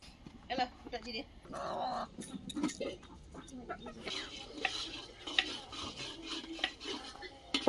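A large metal karai, big enough for three and a half kilos of chicken, pulled out at a picnic with repeated close clanks and scrapes, while people talk and hens cluck nearby.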